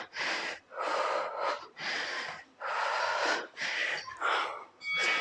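Forceful, breathy exhalations during a HIIT workout, about seven loud, close puffs in a steady rhythm separated by brief gaps, with no speech.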